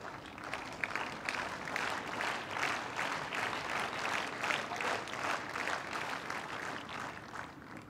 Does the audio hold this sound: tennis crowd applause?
yes